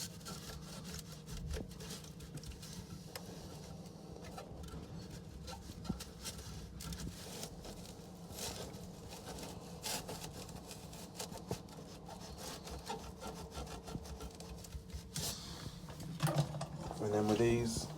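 A washer seating being rubbed clean of debris, a soft, irregular scrubbing and scraping close by that runs steadily and grows louder near the end, quiet overall.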